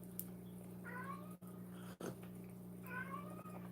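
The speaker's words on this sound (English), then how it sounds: "Hear that cat?" A cat meows twice indoors, drawn-out and moderately loud, over a steady low electrical hum with a couple of sharp clicks in between.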